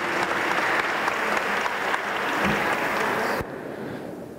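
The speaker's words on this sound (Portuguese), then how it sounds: "uma salva de palmas, parabéns aos grandes vencedores" A large crowd applauds winners at a corporate awards ceremony, a steady, dense wash of clapping that holds evenly for several seconds before dropping abruptly to a quieter, thinner spatter.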